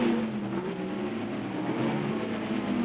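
A 1962 BRM Formula One race car at the French Grand Prix, its engine a steady, sustained drone throughout with a droning harmonic tone, heard at moderate distance without any talk.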